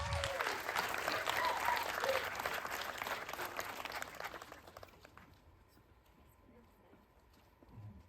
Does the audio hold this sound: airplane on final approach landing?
no